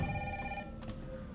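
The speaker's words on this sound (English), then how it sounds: "I'm answering my phone." A telephone rings with a short electronic tone in a quiet room, and a brief warbling burst follows near the end.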